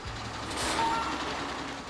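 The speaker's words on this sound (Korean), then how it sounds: "공장으로 들어서는 커다란 트럭" A large truck pulls into a factory yard to pick up a finished mobile farm hut, its reversing alarm giving a short high beep over steady engine rumble and hiss.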